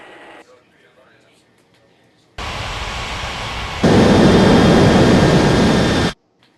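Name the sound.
airliner jet engines on takeoff in an air traffic control video game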